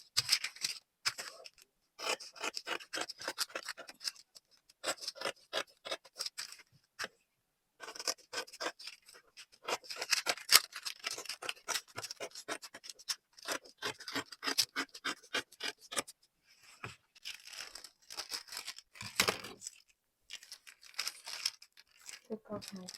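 Scissors snip through fabric while a bodice is cut out for sewing, with repeated short crisp cuts in quick bursts and brief pauses, close and moderately loud.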